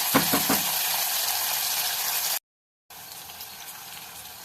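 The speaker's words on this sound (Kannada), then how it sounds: "ಸ್ವಲ್ಪ ಉಳ್ಳಾಗಡ್ಡಿ ಮೆತ್ತಗ ಮಟ್ಟ ಹುರ್ಕೊಬೇಕೇನು" Onions frying soft in a pan for a mixed dal sambar, a dense close sizzle with a few stirring clinks near the start, broken by a brief silent gap before the quieter hiss resumes.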